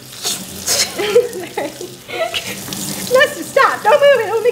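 Tap water runs steadily over a head during a scalp spa hair wash, with several voices talking and reacting over the flow.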